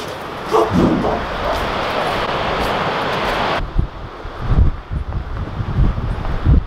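Mink-hunting terriers in Iceland bark outdoors under heavy wind buffeting on the microphone, with a few sharp yips in the first half and more scattered barks as the wind eases.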